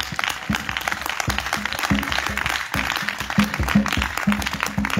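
A congregation at a French-language evening prayer and healing service applauding in rhythmic, sustained clapping, loud and continuous with some crowd noise underneath.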